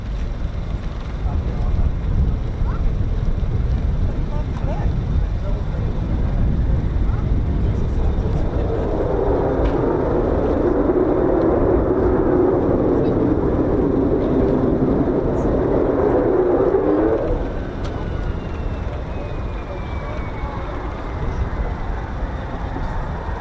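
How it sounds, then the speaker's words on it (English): F-35 fighter jet at RAF Lakenheath, a distant roar swelling over several seconds and fading again under steady wind noise, with someone talking now and then. "Oh, hang on, we got an F-35 joining in."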